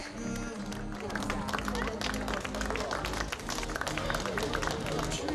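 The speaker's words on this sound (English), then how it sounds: "A round of applause for the Ricky Flynn Motorsport driver" At a WSK Euro Series kart racing podium ceremony, an outdoor crowd applauds a driver with steady, moderately distant clapping under a constant background hum and voices.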